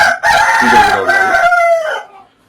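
A native country rooster crows once, loud and close, a long drawn-out call that fades off near the end.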